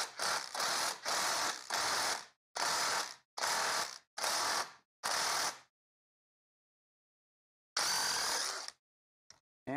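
A ratchet tightens down a GY6 scooter builder tool in a run of about seven loud, close clicking strokes, each a second or less, then a pause and one more burst, with no talk.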